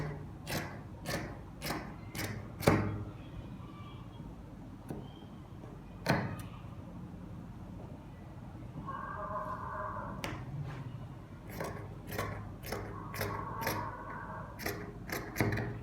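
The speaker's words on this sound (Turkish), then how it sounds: "Şu an 4 parçayı bir kesiyorum." Scissors cutting dress fabric in a series of quick sharp snips, clustered in bursts with pauses between, close and fairly quiet, with faint low talk in the background.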